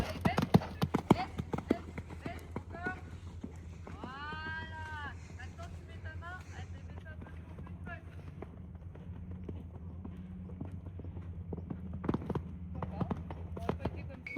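A horse in a show-jumping lesson trots toward a small line of fences, its hoofbeats thudding in an uneven rhythm under light wind noise while a rider talks.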